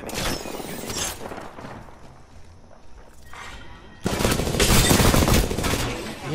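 Dense automatic gunfire in the battle royale game Apex Legends, heavy bursts at the start, a quieter lull, then a louder sustained barrage of shots up close.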